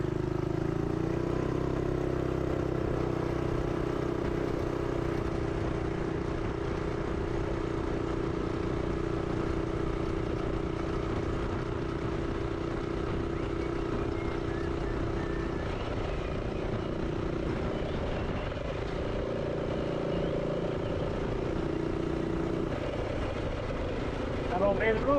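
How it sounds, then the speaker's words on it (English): A running engine with a noisy clutch gives off a steady droning rumble with a rattling edge, loud and close, holding a near-constant pitch before a shift late on. "That clutch makes a lot of noise."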